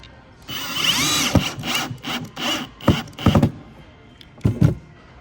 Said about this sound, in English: Look, it won't drill in.